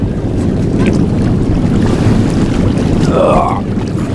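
Offshore superboat racing on Lake Macquarie, Australia: a steady, loud roar of powerboat engines mixed with wind buffeting the microphone and water noise, with a rising engine whine near the end.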